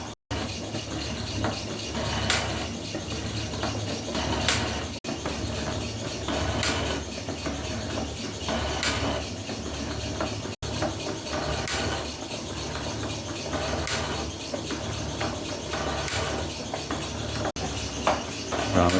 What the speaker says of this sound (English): Right, we're still machining these bronze horns.